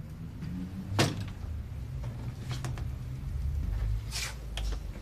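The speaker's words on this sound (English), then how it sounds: "You didn't shut the door." A door thuds and scrapes a few times in a domestic interior scene from the Coronation Street drama, with brief knocks and shuffling over a low room hum.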